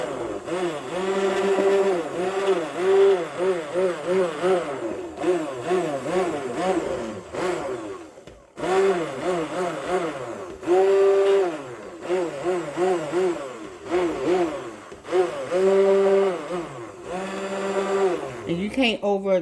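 A warm stick blender mixing a batch of liquid soap, running in repeated short bursts with a whirring, wavering motor pitch, one brief pause midway, then more pulsing bursts.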